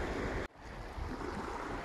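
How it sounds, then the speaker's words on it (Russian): Sea waves wash steadily onto a shore near a dolmen campsite by the Pshada river, a broad rushing roar with wind noise, briefly cut off near the start and then continuing without voices. "Да, кстати, море успокаивается. Вот волна меньше."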